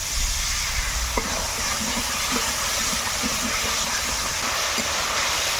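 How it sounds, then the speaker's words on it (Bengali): Spices for a rohu fish curry fry with added water in a pan, giving a steady, dense sizzle and hiss with faint scattered taps of a spoon stirring. No voices. "এবার জল দিয়ে মশলা কষিয়ে নেব ভালো করে"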